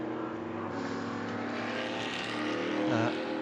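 An LMP3 prototype race car on Michelin tyres spins its wheels in a burnout and pulls out of the pit lane at the Motul Petit Le Mans, a loud, sustained engine roar that swells slightly toward the end, with faint background noise.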